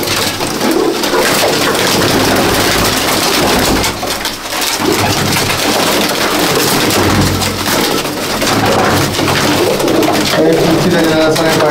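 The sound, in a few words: Madrasi pigeons cooing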